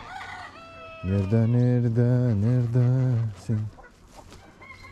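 Hens in a coop with an egg-laying hen nearby give loud, close, drawn-out clucking and crowing-like calls for a few seconds, framed by brief speech before and after.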